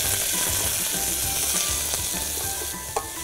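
Mustard seeds, curry leaves, ginger and garlic frying in hot oil, a loud steady sizzle with crackling seed pops and spoon stirring scrapes.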